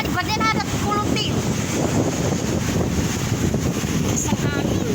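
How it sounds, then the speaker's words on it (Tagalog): Strong wind roars steadily against the microphone outdoors, with rain and stirring trees and a flag around. A constant loud rushing buffet fills the whole stretch, and faint voices sit underneath. "Isang hangin."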